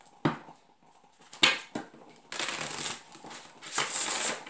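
A tarot deck is shuffled up close, with sharp riffles and taps followed by sustained bursts of card friction, loud and crisp with no talking.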